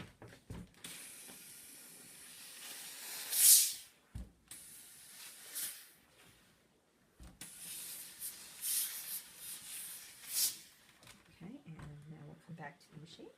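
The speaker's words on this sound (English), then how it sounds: "now we're going to steam that" A steam iron releasing short, loud hissing bursts of steam onto fabric during pillow sewing, with a speaking voice between and over the bursts.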